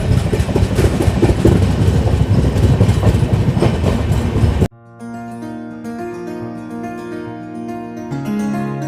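A Howrah to New Delhi train pulls into Durgapur station, heard first as a loud, steady rumble and rattle of rolling cars, then a sudden cut to a quieter, tonal hum with squealing, ringing tones as it slows.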